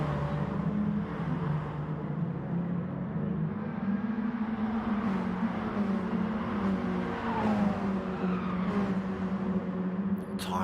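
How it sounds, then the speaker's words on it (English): Mini Cooper race cars lapping Goodwood Circuit during a Mini Cooper Cup race, engines droning steadily with wavering tyre squeal through a corner and a passing car near the end. "Tyres squealing through there."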